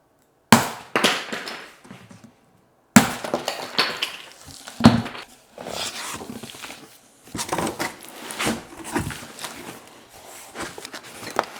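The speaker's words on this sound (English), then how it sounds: "you can take a pair of side cutters and cut open the box" Side cutters opening the cardboard box of a Swift bike, with irregular snips, crunches and rustling of packaging at close range, separated by short pauses including one brief silence near the start.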